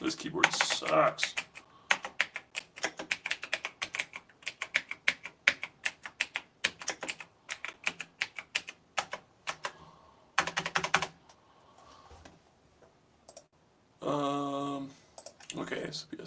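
Fast, uneven keystrokes clatter on a computer keyboard for several seconds before a pause, a short louder burst, and then a brief voice with a few faint taps.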